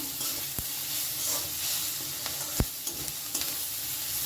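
Maggi noodles with masala sizzle gently in a pan over a low gas flame, a soft, steady frying hiss broken by a few sharp clinks and scrapes of stirring.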